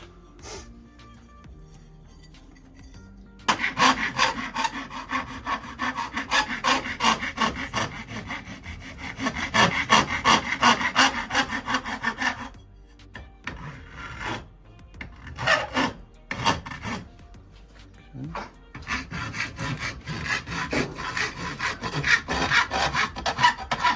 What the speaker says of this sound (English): And then we'll do a little sanding on it